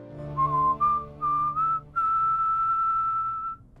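A single person whistles a clear melody in a prison cell, a few short notes followed by one long sustained tone, loud and close with no talking.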